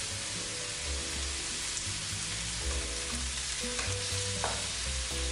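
Anchovies and four angled beans fry in a pan with a dense, continuous sizzle and crackle, under light stirring, steady and close.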